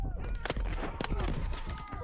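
Gunfire in the World War II shooter game Call of Duty WWII, with repeated sharp shots crackling through a busy battle mix while a voice talks over it.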